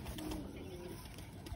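Pigeons coo softly on a rooftop, a faint low murmur of calls heard close and quiet against light background noise.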